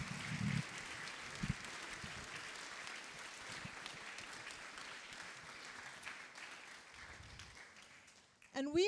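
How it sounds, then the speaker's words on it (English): An audience at a Kamehameha Schools Hawaiʻi gathering for the Hōkūleʻa visit claps for special guests, a sustained, even round of applause in a large space that fades out before a voice starts speaking at the end. "So let's have a round of applause for our special guests here today."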